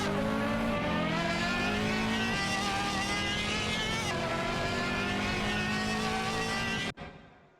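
Race cars with tones rising and falling keep up a continuous loud engine drone through a race, several engines layered close together. The sound cuts off abruptly near the end.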